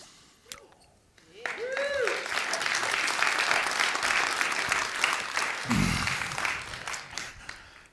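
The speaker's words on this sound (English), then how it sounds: "Thanks for clapping so I could get a drink of water" A community college audience claps steadily at a reflective gathering, with a few whoops and whistles early on before the applause settles into an even, lasting roar that thins slightly near the end.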